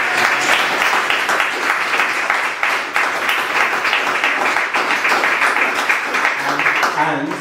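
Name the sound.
audience applause after startup pitch winner announced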